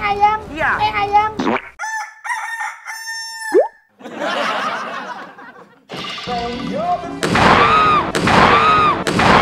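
A rooster crows loudly several times, long rising calls repeated close by, with clucking and other bird sounds in between.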